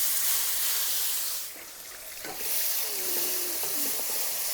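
Crushed onion and garlic frying in coconut oil, a steady close hiss and sizzle that briefly drops in level and then returns, with faint stirring and no voices.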